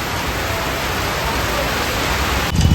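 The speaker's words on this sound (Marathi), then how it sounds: "पाणी बघा किती पडतं" Heavy rain pours down steadily, a dense, even hiss close by that barely changes, with a brief heavier burst of splashing and rumble near the end.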